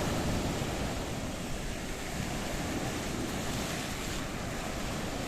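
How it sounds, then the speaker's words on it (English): Sea waves crash steadily along the Paphos promenade in Cyprus, a continuous loud broadband roar of surf mixed with wind buffeting, no voices. "feast your eyes and digest the beauty and the spectacality as the waves crash down in downtown Paphos"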